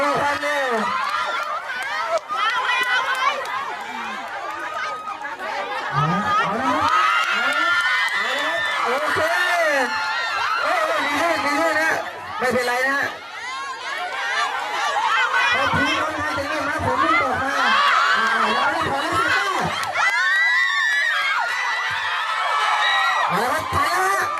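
Children cheer and shout excitedly at a school running race, a lively crowd of overlapping voices, whoops and laughter filling the whole stretch with rising and falling bursts.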